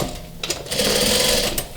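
Close, loud sewing machine stitching a half-inch seam along a sofa cushion with piping, running in short bursts that build into a steady whirring run.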